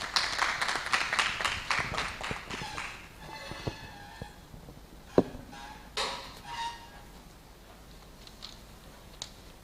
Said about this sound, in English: Now let's give a warm round of applause for Mr. Sam as he's coming with his presentation.